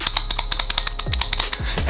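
A handheld tally counter clicked repeatedly, crisp close plastic-metal clicks in a quick uneven series, loud and alone, with a couple of low thumps near the end.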